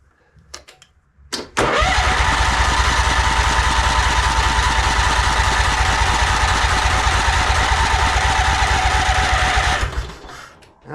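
A beat-up old tractor engine cranks over loud and close for about eight seconds, a steady rapid chugging churn after a brief start, then cuts off without catching.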